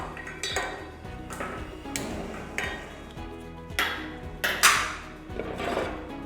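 A gas stove is switched on and a pot is set down on it, giving a series of sharp metallic clicks and clanks with one louder bang of the pot near the end, close and alone in a quiet kitchen.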